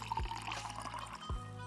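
Steady stream of water pouring into a coffee cup at a café counter in Barista Simulator, a soft continuous liquid gurgle framed by two low dull thuds, quiet and close without voices.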